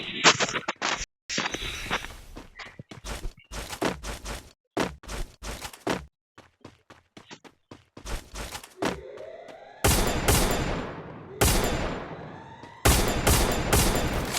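Video game gunfire crackles in sharp bursts and rapid volleys, some loud and close, others lighter, with gaps between shots and a voice talking over parts of it.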